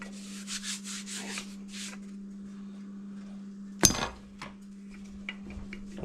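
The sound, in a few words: rolling out floured pie crust dough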